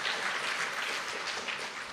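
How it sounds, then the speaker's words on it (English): An audience at a college foundation's annual awards celebration claps together. The sustained, fairly soft patter of many hands comes from a moderate distance. "clap for yourselves"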